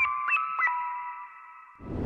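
A Splice synth lead sample for a dark ambient beat: a sustained, bright, bell-like tone with a couple of short ornamental pitch swoops near the start, ringing alone for nearly two seconds before a burst of noisy texture cuts in.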